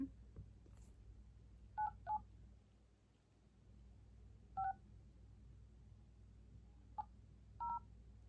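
Telephone keypad tones dialing a number for a call, a handful of short clear beeps in irregular groups over a low, quiet background hum.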